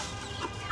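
Young chicks cluck softly with a few faint, short calls over a low background hum, close by and without speech.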